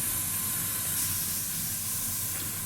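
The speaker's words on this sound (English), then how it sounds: "So I'll turn on the compressor, and again I'm shooting at about 25 psi" Airbrush running off a compressor set to about 25 psi, giving a steady, close broadband hiss with a low mechanical hum beneath, continuous and unbroken throughout.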